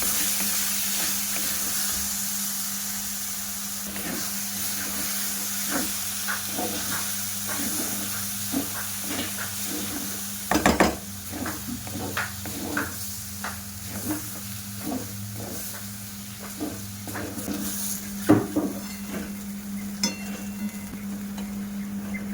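Sago is stirred in hot ghee in a pan on the stove, with a steady low sizzle and hiss under a constant hum. Irregular scraping taps from the spoon start midway and are close and moderately loud.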